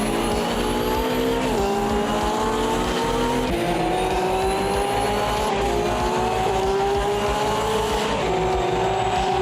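Porsche GT3 race cars battling wheel to wheel in Automobilista 2 at Termas de Río Hondo, loud engines howling through upshifts with rising and falling pitch, constant and close, no voices.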